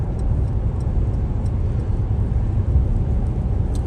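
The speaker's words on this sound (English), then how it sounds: "we're gonna go ahead and listen to some crackles and pops, because you know this car makes them" A Mercedes-Benz GT53 on a cold, rainy day rumbles steadily at close range, its exhaust burbling with faint intermittent ticks and crackles over a constant low drone.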